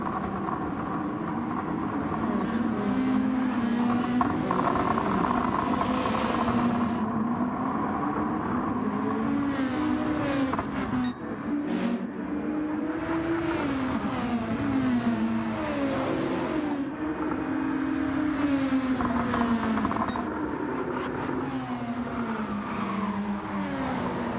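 Gr2 racing cars, including a Nissan GTR, lapping a circuit in a video game race, with continuous engine drone rising and falling through gear changes, occasional tire squeal, and several cars passing close together.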